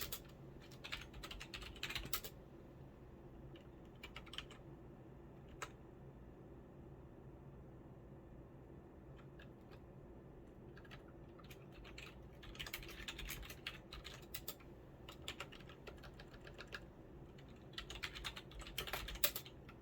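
Typing a terminal command on a computer keyboard, quick clusters of close key clicks separated by pauses over a faint steady background hiss.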